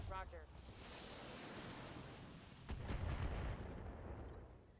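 Mech weapons fire in BattleTech comes as a loud, sustained barrage of rumbling blasts, building to a heavier burst near the end, with voices talking over the battle.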